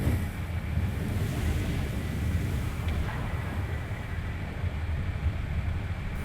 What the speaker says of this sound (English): Extreme wind, as you can hear from the audio